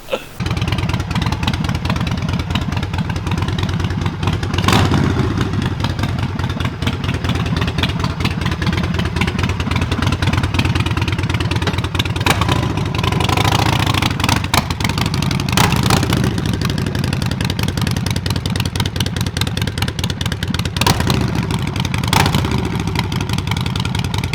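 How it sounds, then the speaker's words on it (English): A Harley-Davidson Sportster bobber fitted with a Bassani exhaust runs steadily close by, its loud engine rumbling continuously with a few small swells and clattery mechanical noise and no talking. "next clip, we're gonna have this thing started up"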